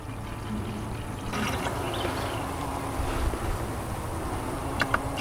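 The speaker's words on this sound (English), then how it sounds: "Pour half of this gallon right down in here." Sugar-water liquid from a gallon jug pours steadily down into a beehive feeder, a continuous close watery rush with a few small knocks near the end.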